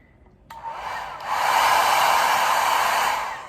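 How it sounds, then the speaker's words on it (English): A hair dryer switches on with a click and whirs into a loud, steady rushing blow that holds for several seconds, close by. "So this is a hairdryer, and it makes wind."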